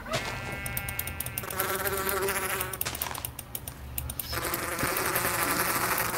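Buzzing bee in a video game, a steady insect-like drone running through the clip beneath busy game music and bleating goat sounds.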